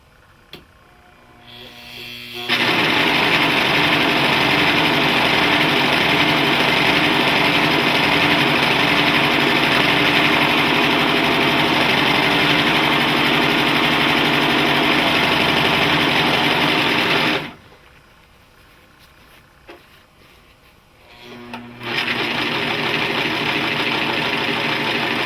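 A Singer Professional Five serger stitches in fast steady runs, a loud buzzing whir that holds for about fifteen seconds, stops briefly, then starts again, close to the listener.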